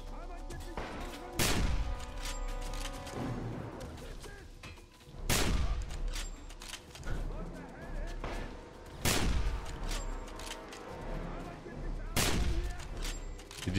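Gunfire in the video game Wolfenstein (2009): loud bursts of shots and heavy impacts recur every few seconds over a constant game soundscape.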